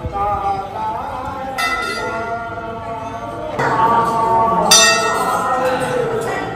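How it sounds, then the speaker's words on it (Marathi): A metal temple bell is struck a couple of times in a Mahadev shrine, bright ringing tones decaying over a background of people talking nearby. "त्याच्या मुलाला वर घेऊन घंटी वाजवायची"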